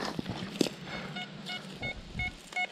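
Metal detector sounding over a target in muddy ground, short repeated electronic beeps rising out of faint outdoor rustle and handling noise, close by.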